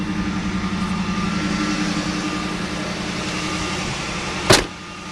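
The engine of a 1979 Hurst Olds runs at a fast idle with the hood open, a steady close rumble with a low hum that holds evenly, ending in a brief sharp click.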